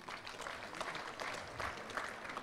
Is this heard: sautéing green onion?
no